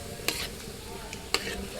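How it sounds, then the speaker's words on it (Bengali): Bay leaves, a dried chilli and whole cumin seeds sizzle steadily in hot oil, with a couple of sharp spits and stirring scrapes over the frying hiss. "তেলের মধ্যে ফোড়নে দিয়ে দিচ্ছি দুটো তেজপাতা, একটা শুকনো লঙ্কা, আর দিচ্ছি গোটা জিরে"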